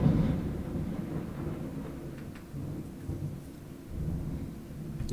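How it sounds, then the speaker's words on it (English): Low thunder rolls through a storm, a deep rumble that surges at the start and swells again near the end, over a soft patter of rain. "It was thunder."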